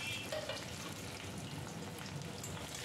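Small potato pieces sizzle gently in a pan while being turned over, a soft continuous frying hiss with faint stirring movement, quiet and close.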